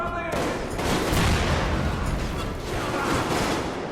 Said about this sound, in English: Damn, sounds like Damir is giving them hell.